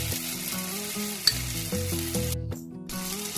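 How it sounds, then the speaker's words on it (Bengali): Beaten sour yogurt is added to a hot pan of spices with green chilli and ginger paste for malai cauliflower, setting off a loud, steady sizzle with a clear tonal hum running underneath. "এবার দেব ফেটিয়ে রাখা টক দইটা।"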